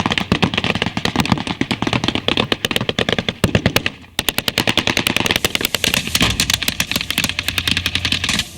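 Sustained automatic gunfire in a Syrian war zone around Damascus and Palmyra: rapid, loud machine-gun bursts rattle almost continuously, with a brief pause midway before another dense volley resumes.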